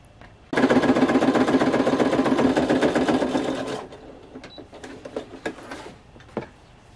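A sewing machine top-stitches a leather duster jacket seam in a loud, rapid, steady run of stitches for about three seconds, then slows and stops, followed by scattered handling clicks.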